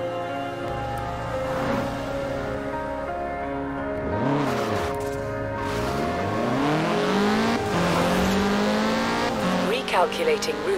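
The Offington Whitehorse, a prehistoric-style car in Forza Horizon 4, races with a rising and falling engine note through repeated revs and gear shifts, tires squealing at moments, loud and close throughout.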